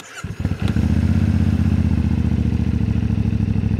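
A CF Moto motorcycle engine cranks and catches, then settles into a loud, steady, throbbing idle up close.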